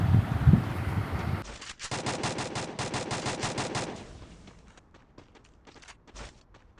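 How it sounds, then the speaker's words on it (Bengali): Gunfire in the video game Garena Free Fire, with an enemy shooting from a rooftop: a dense automatic burst of rapid, evenly spaced shots, then sparser single cracks trailing off. "উপর থেকে সে ফায়ার দেওয়ার চেষ্টা করতেছে আমাদেরকে নকডাউন দেওয়ার"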